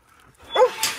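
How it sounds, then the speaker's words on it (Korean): A single dog's bark rises sharply about halfway through, close and fairly loud, followed by a brief higher yip, with no talking. "가을이 이제 짖기만 하지 말고 애들 경계하지 말고"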